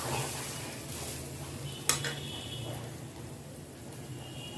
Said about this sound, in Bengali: ভালো করে নেড়ে চেড়ে চালের সাথে মিশিয়ে দেব, যাতে ভালো করে মাংসটা চালের সাথে মিক্স হয়ে যায়